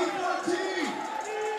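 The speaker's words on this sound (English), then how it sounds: "Nagkakagulo na dito ang crowd natin." At a 3x3 basketball game, the Asia Pacific Super Quest 2022 qualifier, an arena crowd roars loudly, with raised, shouting voices rising and falling together in a continuous excited swell.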